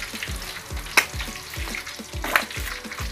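Pork belly deep-frying in hot oil for lechon kawali, a steady close crackle broken by regular scraping stir strokes and two sharp splatter pops, with no talking.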